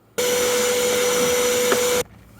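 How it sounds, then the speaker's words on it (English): A vacuum cleaner switches on and runs with a steady whining roar for about two seconds, cleaning the air filter housing of a 6th-generation VW Polo, then cuts off abruptly. "Vacuum and clean the area here."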